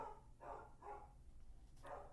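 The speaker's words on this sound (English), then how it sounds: "That was Sammy, my dog, barking in the background." A dog barks three or four times in the background, muffled and fairly distant, over a steady low indoor hum.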